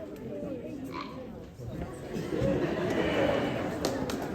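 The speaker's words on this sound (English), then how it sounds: "there's a new instrument we have up here that is meant to emulate the sound of a frog" A wooden frog güiro is scraped to copy a frog's croak during a middle school band concert in an auditorium, giving a few rasping ratchety croaks that sit faintly under the murmur of the room.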